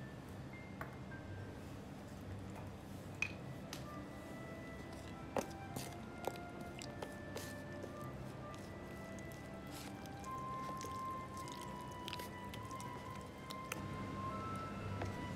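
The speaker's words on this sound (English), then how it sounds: "I have mixed the corn flour and the all-purpose flour well" Runny corn flour and all-purpose flour batter for Idli Manchurian is stirred by hand, giving soft wet squishes and light taps of the utensil against the bowl, close and quiet, with no talking.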